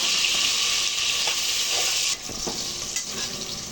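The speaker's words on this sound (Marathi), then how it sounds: "कांद्याला पण असं छान परतून घेऊया।" Onions sautéing in a pan for veg pulao give a loud, continuous hiss-and-sizzle with stirring movements, easing slightly partway through, with no voices.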